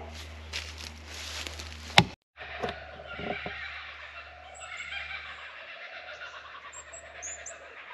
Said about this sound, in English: Kookaburra is starting to laugh at me.